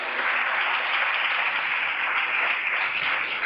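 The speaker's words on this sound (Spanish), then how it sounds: "Vamos a darle un aplauso grande a Dios." Steady, sustained applause from a church congregation, a dense wash of clapping that holds at an even level throughout with no voices on top.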